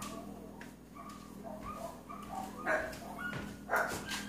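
Two dogs fuss and play-fight with each other, trading short barks, yips and whimpers at a moderate distance over a low steady background hum.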